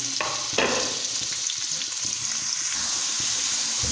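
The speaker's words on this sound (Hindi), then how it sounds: "प्याज मैंने डाल दिए ऑयल में, और तब तक के लिए प्याज भूनते हैं" Chopped onions frying in hot oil in a home kitchen while dal keema is made, a steady broadband sizzle close up, with a few brief stirring clatters near the start and no talk.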